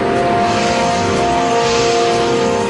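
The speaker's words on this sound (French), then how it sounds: "Cet hélicoptère banalisé est un Bell 412 EP." A Bell 412 EP helicopter flies high over Manhattan, its steady loud engine and rotor drone filling the whole stretch with no voices.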